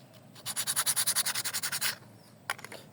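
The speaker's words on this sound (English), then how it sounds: "So I'm sanding down my brushes." Close, quiet sanding of starter motor brushes: a quick run of about a dozen rhythmic back-and-forth rubbing strokes, a short pause, then a few more strokes.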